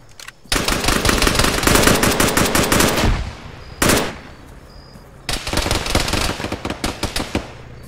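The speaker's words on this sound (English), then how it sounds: "Shoot him, shoot him!" Gunfire in the ArmA video game (ShackTac session): loud, rapid automatic bursts that rattle on for over two seconds, break off, then return with a short shot and another long stuttering volley of fire.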